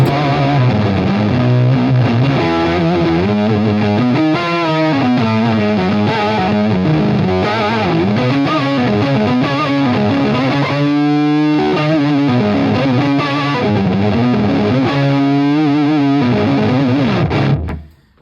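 A heavily distorted electric guitar through a NUX Trident effects unit with chorus-like effects plays a continuous, loud riff, thick and wavering, ending abruptly.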